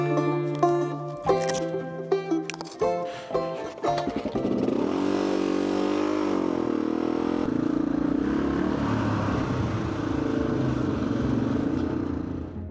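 A Honda XR400 motorcycle being ridden, engine note building from broken starts into a steady loud drone that holds close for the rest of the ride.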